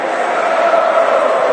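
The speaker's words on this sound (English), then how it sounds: "And the crowd loves coming out here" Stadium crowd at a Chelsea match against Udinese, a dense continuous roar of many voices with no break, loud and steady throughout.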